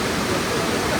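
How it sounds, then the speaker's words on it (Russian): Steady, dense rushing water roars without pause, a broad continuous wash from a nearby waterfall in Patagonia. "вот водопад"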